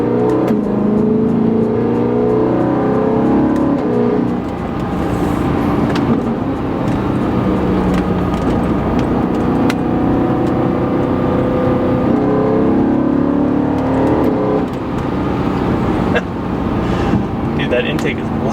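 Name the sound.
BMW E90 M3 loud intake while driving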